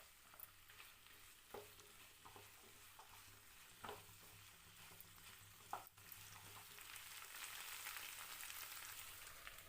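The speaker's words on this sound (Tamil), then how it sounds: "நாலுலேருந்து 5 நிமிஷத்துக்கு மீடியம் ஃப்ளேமில் வதக்கி விட்டுருங்க." Cut okra sautéing and being stirred in a pan over a medium flame, a steady soft sizzle with occasional scraping stir sounds, building slightly louder toward the end, no voices.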